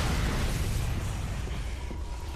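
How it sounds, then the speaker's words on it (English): Explosions in the Dead Rising video game: a continuous loud, rumbling roar of blasts with crackling bursts, dense low-end booms filling the whole stretch without pause. "What the fuck is up with all those explosions?"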